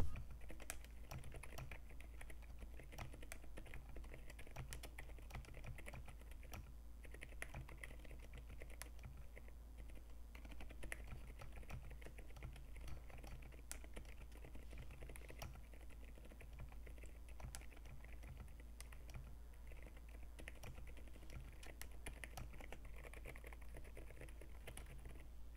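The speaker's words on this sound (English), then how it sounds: "Let's do a typing test." An Epomaker RT100 keyboard with 3- or 5-pin switches is typed on steadily for a long stretch. The keys give soft, dense, muted clicks at close range, with no talking.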